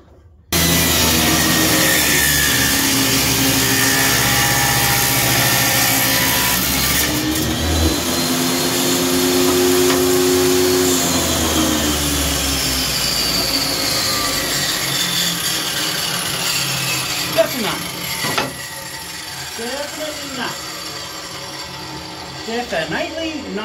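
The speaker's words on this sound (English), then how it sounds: "which unfortunately I'm probably going to do on the table saw as well" A table saw cuts through wood, its motor whining steadily at close range and changing pitch as the blade works through the cut, then running down near the end with some clattering.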